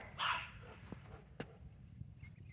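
A small dog gives one short, sharp bark, followed by quieter faint yips and thumps in a calm setting.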